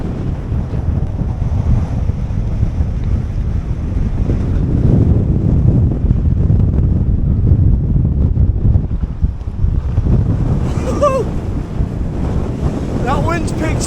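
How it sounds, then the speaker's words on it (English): Strong gusting wind roars across the microphone high on a snowy Snowdonia mountain hike near Foel Fras, a loud steady buffeting rumble throughout, with brief faint voices near the end. "That wind's picked up a hell of a lot."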